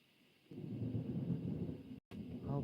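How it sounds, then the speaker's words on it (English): A severe thunderstorm rumbles in low and distant, a broad roll of thunder swelling in after a quiet start and sustaining with soft crackle before a brief dropout and a short resumption. "Okay, we have a really bad thunderstorm."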